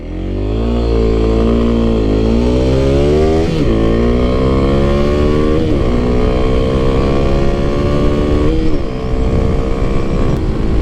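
A Kawasaki KLX300SM supermoto motorcycle cruising on the road near 60 to 70 mph, its single-cylinder engine loud and close with a steady drone that rises and dips through several throttle and gear changes.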